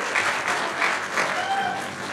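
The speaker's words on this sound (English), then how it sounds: "we give them a clap." A theater audience at a live stage performance gives a short round of applause for a sponsor, steady clapping that fades slightly near the end, with no speech.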